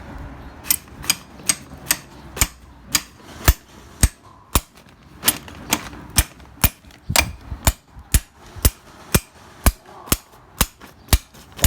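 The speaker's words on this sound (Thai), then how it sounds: "เดี๋ยวช่างหาค้อนมาเคาะก่อน เคาะ เคาะที่ขาเกียร์ด้านหนึ่งนะ" Hammer tapping a gear shaft out of a clutch housing: a steady series of sharp metallic knocks, about twenty evenly spaced blows, close and loud with no talk.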